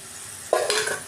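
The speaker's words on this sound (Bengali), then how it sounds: "এবার চিংড়ি মাছটাও দিয়ে দিলাম।" Shrimp dropped into a pan of cooking ash gourd, a sudden close sizzle bursting out halfway through, then a bright hissing fry with light stirring scrapes.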